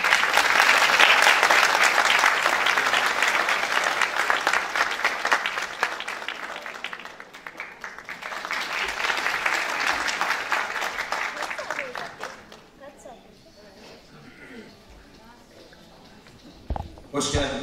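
Audience applause welcoming soloist Atlıhan Öge at a Turkish classical music concert, dense clapping swelling loud for several seconds, easing, rising again, then fading into quieter room noise near the end.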